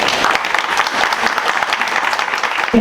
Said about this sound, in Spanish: Tal vez un fuerte aplauso para...